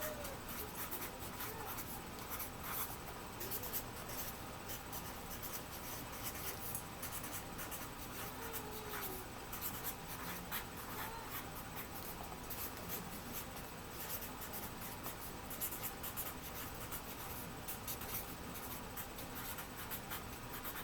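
Continuous soft scratching of a pencil drawing notches along a ruler, close and quiet, with faint rustling throughout.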